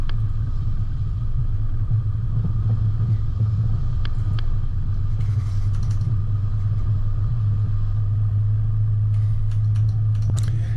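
A 4WD vehicle driving through water and mud on a creek track in winter, a steady close engine rumble with a low droning tone, faint splashes and knocks on top, no talking.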